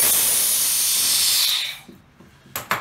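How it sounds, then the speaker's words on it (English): Compressed air rushes out of a resin casting pressure pot as a loud, close, steady hiss that fades after about a second and a half, followed by a few soft knocks and clicks. "I can let the pressure out."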